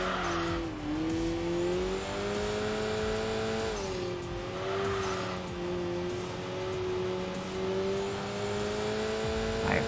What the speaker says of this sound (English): Let's let this little inline four-cylinder carry us to victory.